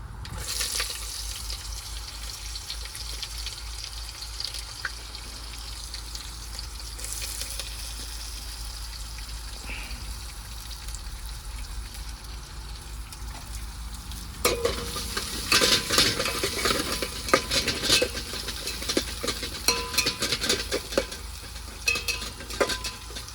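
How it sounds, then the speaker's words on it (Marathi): Cumin, mustard seeds, peanuts and onion frying in a pan for a truck driver's masala rice, a steady sizzle with stirring that grows louder and busier about two-thirds of the way through, with no talking. "जिरे मोहरी गेली, प्लस शेंगदाणे गेले. कांदा,"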